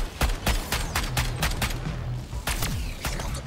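Rapid gunfire in the video game Suicide Squad: Kill the Justice League, with a quick run of sharp, loud, close shots in uneven bursts over a dense rumbling battle background.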